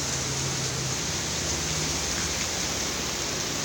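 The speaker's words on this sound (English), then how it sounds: "Another fucking rainy day, man." Steady rain pours on a rainy day in Houston, Texas, a dense, even hiss filling the whole stretch with a faint low rumble beneath and no voices.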